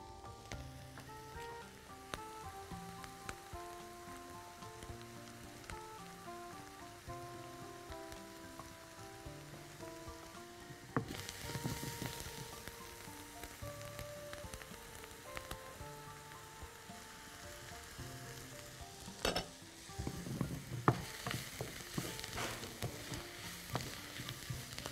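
Mushrooms frying in a pan, a faint continuous sizzle and crackle under quiet background music, with a couple of louder bursts of spitting as they are stirred.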